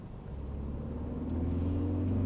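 A Ford Focus ST turbo engine pulls hard in third gear from about 2,000 rpm, a steady car drone whose pitch climbs and grows slightly louder throughout.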